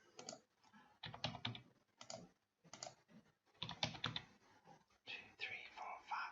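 Numbers are typed on a computer keyboard in short bursts of soft, close clicks separated by brief pauses, with no one speaking.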